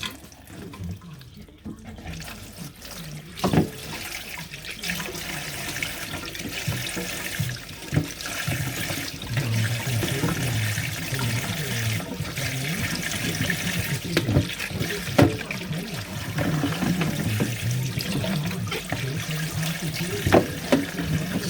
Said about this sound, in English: giving the stalks a good wash and trim up